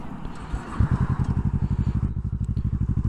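Kawasaki ER-6f motorcycle engine rumbling steadily at close range on a countryside road, with a rhythmic low pulsing throb that builds slightly partway through.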